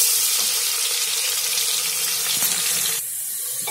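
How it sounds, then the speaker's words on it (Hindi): Chopped onions sizzling in hot spiced oil while a vegetable pulao is cooked, a loud steady hiss and crackle that continues throughout and drops slightly in level near the end. "अब इसमें हम कटी हुई प्याज डाल देंगे"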